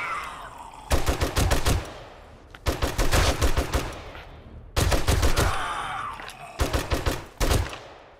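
An M60 machine gun fires in 7 Days to Die in four loud, close bursts of rapid automatic shots, each lasting about a second, with the echo decaying in the pauses between them.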